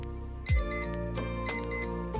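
An alarm clock set as a lunchtime reminder rings with steady, repeating electronic tones, loud and close, pulsing in a regular rhythm across the whole stretch with no talk over it.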